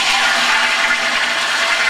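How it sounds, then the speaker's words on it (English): A toilet flushes with a loud, steady rush of water close by, a continuous hiss with no break and no talk. "This is how you flush it there."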